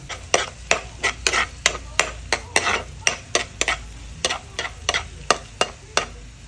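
Garlic browns in butter in a pan, a soft sizzle under a rhythmic series of sharp spatula scrapes and clinks against the metal, close and steady.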